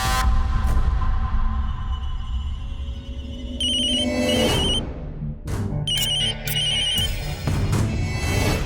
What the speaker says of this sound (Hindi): उस रात चिराग को किसी का फोन आया था।